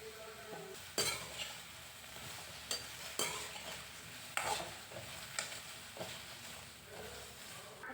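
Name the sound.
okra being stirred and sautéed in a pan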